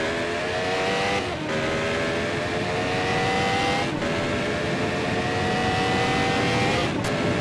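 A 1988 CART race car engine heard from onboard in a race, a loud continuous high-revving drone with brief dips at gear shifts and steady climbs in pitch.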